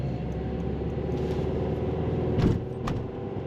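A car drives in traffic on Vancouver Island, its steady engine and road rumble continuous and close inside the cabin, with a few faint rattles and clicks.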